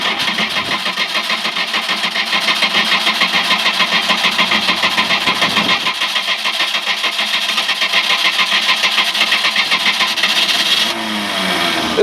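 Boat engine on the water cranking then catching and settling into a steady rough idle with no throttle, loud and close, no talking.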